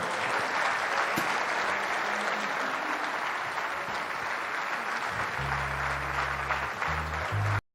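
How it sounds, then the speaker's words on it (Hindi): Sustained audience applause at a radio tribute show after a singer is introduced, a steady dense roar of clapping that carries on throughout, with a low musical tone entering near the end. "नाम लेने पर जोरदार तालियां बजाइएगा बहनों भाइयों"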